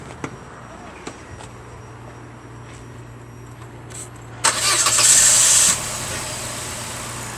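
A car engine, just fitted with a cold air intake, cranks and catches with a loud burst and brief rev, then settles into a steady idle close by; a voice speaks faintly beforehand.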